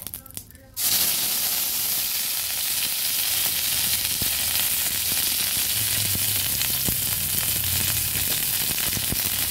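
Bay leaf, dried chilli, five-spice, cumin and ginger paste drop into hot mustard oil for a vegetarian koyash, bursting into a loud, steady sizzle and hiss after a brief quieter start, continuing without a break.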